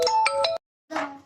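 A phone rings close by in a home, a repeating electronic ringtone with three quick tonal bursts, a pause of silence, then another burst of ringing.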